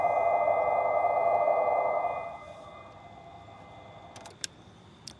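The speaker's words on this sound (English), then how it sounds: "even with the car off now, I'm still getting that pedestrian warning noise" The pedestrian warning speaker of a salvaged Chevy Bolt EV hums on with the car turned off. The steady electronic tone holds for about two seconds, then cuts out, leaving quiet background and a few sharp clicks.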